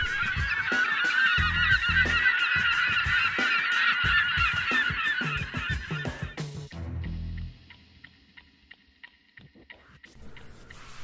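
Penguins call from their nests on Macquarie Island, a dense chorus of harsh, honking brays for several seconds, then thins out into scattered nearby squawks and outdoor ambience.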